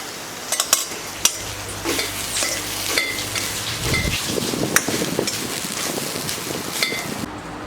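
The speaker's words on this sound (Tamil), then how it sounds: "கடாயை சூடு பண்ணிவிட்டு துருவி வச்சுருக்க தேங்காயை போட்டு நல்லா வதக்கிக்கலாம்" Grated coconut sautéing in a hot kadai gives off a soft, steady sizzle, with intermittent scraping and clinking strokes as it is stirred.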